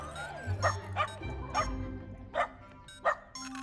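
Several puppies give an excited welcome-home greeting, a series of high yips and short barks spaced about half a second apart over a low background hum.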